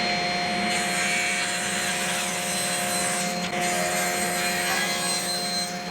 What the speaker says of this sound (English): back here at the table saw, we're going to take and cut down our red oak handle